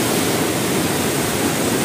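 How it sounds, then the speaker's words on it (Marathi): The Godavari River is in flood in Nashik district after heavy rain. Its water makes a constant, loud roar that fills the whole stretch evenly, with no voices on top. "भयानक असा पूर आलेला आहे आणि हे पाणी वाढत चाललंय हळूहळू"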